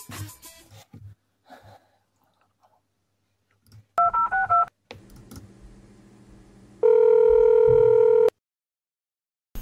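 A telephone keypad is dialed in a quick run of distinct tones, followed by a long steady tone, with brief rustling and soft handling noises around them.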